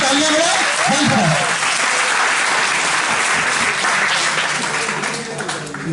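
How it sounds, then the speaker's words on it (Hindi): A crowd at a patriotic poetry recital breaks into loud, sustained applause for the poet, steady and close throughout, with a voice or two rising over the clapping near the start. "ज्ञान प्रकाश जी के लिए एक बार सब मिलकर जोरदार तालियां बजाएं।"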